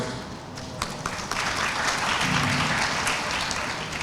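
Audience applause fills the hall at the inauguration of the 5th Global Ayurveda Festival, a steady dense clapping from a large crowd that swells slightly and holds for several seconds.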